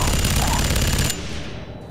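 Loud, dense roar of gunfire and rocket blasts from a power-armor boss battle in the video game FEAR 3, cutting off sharply after a second and tailing away into a fading rumble.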